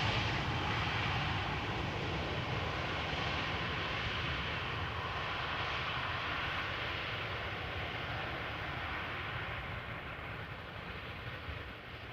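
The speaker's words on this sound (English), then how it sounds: "This is Air France landing, also coming in from Paris Charles de Gaulle" An Air France Airbus A320 landing at Amsterdam Schiphol airport, arriving from Paris: a steady, broad jet engine roar held at moderate distance, easing slightly toward the end.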